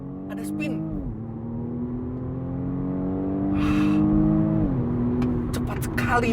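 A 2020 BMW M235i all-wheel-drive launches hard using launch control, its engine note climbing through gear changes with brief dips as it accelerates strongly, heard from inside the car.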